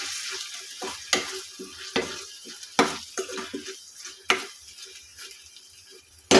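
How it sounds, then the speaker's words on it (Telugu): Food sizzles in a frying pan as coriander powder is stirred in, with a soft continuous fry under repeated sharp scrapes and clinks of a spoon against the pan, and no talking. "మళ్ళీ ఒకసారి అట్లా కలుపుకోవాలి."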